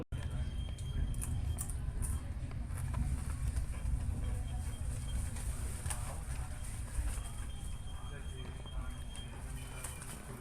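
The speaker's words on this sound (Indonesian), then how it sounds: "kereta api Toho ini persiapan masuk" A train in East Java rumbles past on rails with a loud, steady low roar and faint rhythmic clatter, continuing throughout with some squeal at the start.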